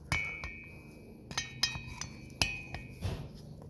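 A small brass scraper works carbon off a Husqvarna 450 chainsaw cylinder in a series of sharp, close metallic clinks and taps spaced irregularly, with quiet gaps between them.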